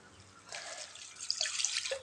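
Rice-rinsing water is poured in a short, soft splashing stream into a pot. It starts quietly and grows a little louder before ending.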